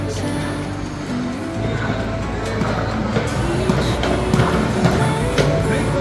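An arcade racing game plays in a busy shopping mall, giving off continuous electronic car engine revving and skidding effects amid the hum of the surrounding crowd.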